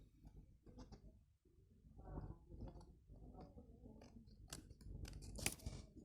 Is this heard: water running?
no